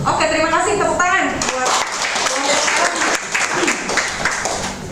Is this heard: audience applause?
yes